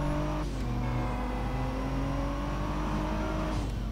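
A car engine in the driving video game Driver San Francisco drones steadily and revs up and down in pitch, loud and continuous throughout, with no talking over it.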